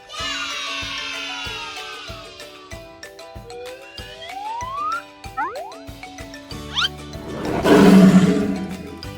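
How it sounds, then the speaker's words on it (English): A lion roars as a wild animal in a long, rumbling bellow that swells to a loud peak near the end. Other animal calls and sweeping tones come before it. "It's a lion."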